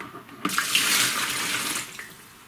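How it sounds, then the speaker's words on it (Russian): Water pours out of an orchid pot in a steady splashing stream for about a second and a half, then trickles off. "сливаю воду"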